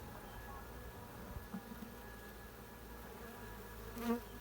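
Steady, low buzzing from many honeybees around an open hive during a hive transfer, a continuous hum with a brief louder swell near the end.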